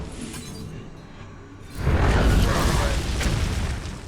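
A Dark Bomb spell explosion in the Hearthstone video game, a deep booming burst with shattering crackle that swells suddenly after a quieter stretch of game ambience and lingers for a couple of seconds.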